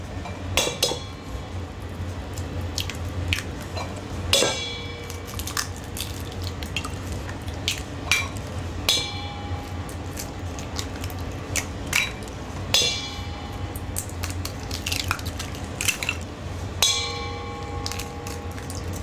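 Whole eggs being added to a mixing bowl for a rustic apple cake, heard as scattered light clinks, taps and cracks against the bowl, close and fairly quiet, with no talking.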